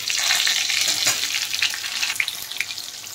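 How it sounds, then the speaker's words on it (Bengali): Boiled new potatoes fry in hot oil in a pan, a steady broadband sizzle with occasional spatters and pops, close and loud throughout, no voices. "আলুগুলো ভেজে তুলে নেব।"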